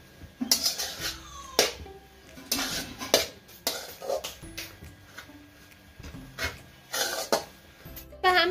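Carrots sautéed in ghee in a pan for carrot halwa, stirred with a metal utensil. Sharp clanks and scrapes come at irregular intervals over a faint background hiss, with no talking.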